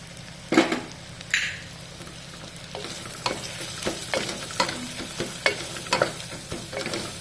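Chilli and turmeric powder stirred in a little hot oil for a mutton dish, with a low continuous sizzle broken by repeated scraping strokes of a spoon against the pan, close and clear.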